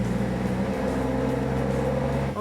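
A Jeep Wrangler JK engine drones loudly and steadily on a dyno, a dense rumbling roar held at high revs throughout without letting up.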